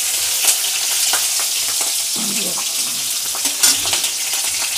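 Green and red chilies sizzling in hot oil in a pan for a cluster ridge gourd vegetable dish, a steady close crackle with occasional stirring clatter and small spatters.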